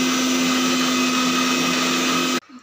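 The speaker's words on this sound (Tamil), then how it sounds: "ப்ரெட்டு மிக்சியில் போட்டு அரைக்குது." A kitchen mixer grinder grinds bread with a loud, steady motor whine for about two seconds, then cuts off abruptly into near silence.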